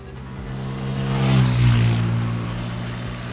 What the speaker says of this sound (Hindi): N160 का एग्जॉस्ट नोट वाकई में स्पोर्टी है।